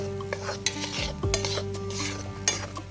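Gram flour roasting in ghee for mohanthal, stirred by hand with a spoon scraping the pan in uneven strokes over a soft sizzle, close and fairly quiet.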